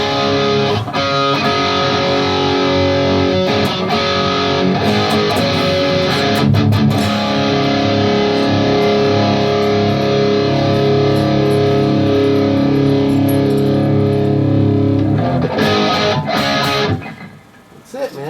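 Distorted high-gain electric guitar played through blended Marshall and Orange amp heads, a thick sustained chugging riff that rings loud and steady for most of the stretch before cutting off near the end.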